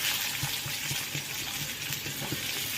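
Onions hitting hot oil in a pan for bread pakoda, giving a steady, close sizzling hiss with faint crackles and small clinks throughout, no talking.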